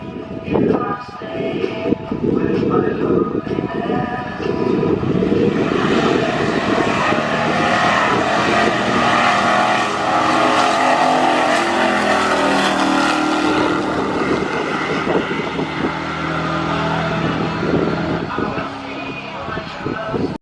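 A slammed Ram pickup truck racing down a drag strip, a loud sustained engine roar that holds steady for twenty seconds with rising and falling pitch, broad and close with heavy rushing noise.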